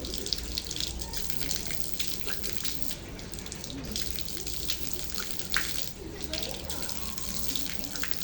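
Tap water runs steadily from a faucet during ablution as the mouth is rinsed, a continuous hiss and splash with faint talk underneath.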